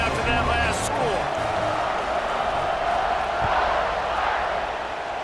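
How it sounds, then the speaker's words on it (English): A stadium crowd roars in a steady, loud wash in EA Sports College Football 26, with a commentator's voice running over the noise. "this crowd is buzzing after that last score."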